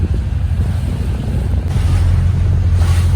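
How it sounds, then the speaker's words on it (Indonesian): A boat pitching on rough seas near Labuan Bajo, with heavy low rumbling of wind and water against the hull, a continuous churning roar buffeting the microphone. "Ombaknya brutal guys. Tuh, kita terombang ambing."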